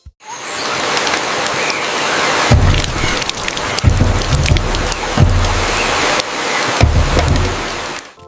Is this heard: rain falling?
yes